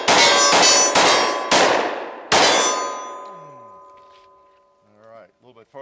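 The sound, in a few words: Glock 29 10mm shot hitting steel tombstone target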